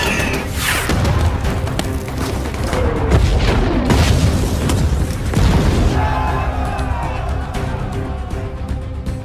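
A bomb from an air strike goes off during an attack on Taliban forces in eastern Afghanistan, heard as loud, sustained booming rumble with several heavy thuds rolling into one another and no pause throughout.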